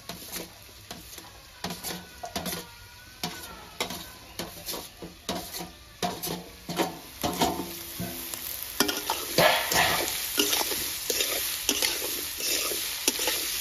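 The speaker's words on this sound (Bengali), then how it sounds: "মাছ ভাজা তেলে এই আলু ভাজছি" Potatoes with green chillies fry in oil previously used to fry fish, giving a steady sizzle broken by repeated scraping stirs in the pan, loud and close, with no voices.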